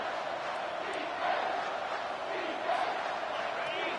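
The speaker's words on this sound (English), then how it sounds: "this crowd is tearing the lid off this place" A packed college football stadium crowd roars in NCAA 25 at a Michigan game, a continuous wash of distant cheering that swells slightly twice, with no voices on top.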